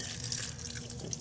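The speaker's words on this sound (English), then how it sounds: "I'm going to put in this whole cup of water" Water pours steadily from a cup into the pot of a Ninja cooker, a continuous close splashing rush with no talk.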